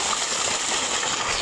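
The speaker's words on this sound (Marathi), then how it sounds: "मोटर चालू झालेली आहे आपली" Water gushes steadily from a running 7.5 HP motor pump onto a millet field, a constant broadband rushing noise at close range with no pauses.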